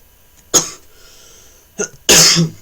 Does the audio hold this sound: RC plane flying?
no